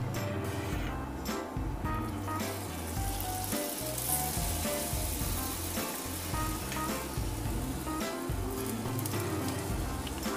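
An aloo paratha fries on a pan with refined oil, giving a steady, soft, continuous sizzle with a faint background hum throughout.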